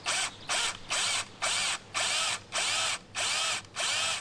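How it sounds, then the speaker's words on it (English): An SDS drill bores fixing holes into a brick wall in short repeated pulses, about nine bursts of loud grinding hammering separated by brief pauses, close up with no talking. "I'm now using the SDS drill again and I am drilling the two fixing holes."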